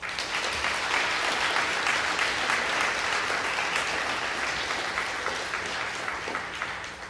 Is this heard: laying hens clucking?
no